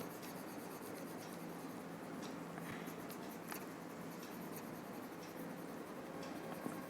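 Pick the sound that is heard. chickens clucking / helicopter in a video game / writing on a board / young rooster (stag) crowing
writing on a board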